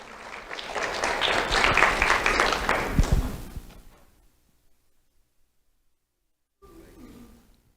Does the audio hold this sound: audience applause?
yes